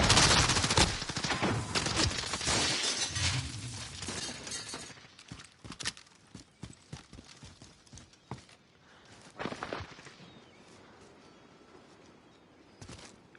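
A shooter video game in an esports match fills with gunfire and grenade blasts, with dense bursts of shots and cracking impacts that thin into scattered, sharper reports later.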